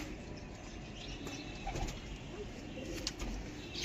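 Closed-tail (bandh dum) pigeons with purple feet and black beaks coo softly in a loft, with brief wing flaps and rustling mixed into a steady low background; no voices are present.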